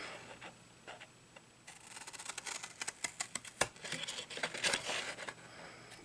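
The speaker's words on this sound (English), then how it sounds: "I'm going to cut from the score line to the corner." Scissors snip through scored cardstock toward the corner for a handmade candy bar box, a run of close, crisp cuts and crinkles in irregular rhythm, with no talking.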